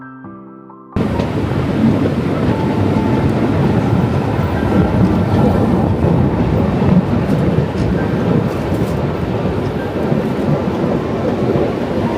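After a brief quiet start, a loud, steady rumble of a moving steam train fills the space, with rattling and clanking throughout.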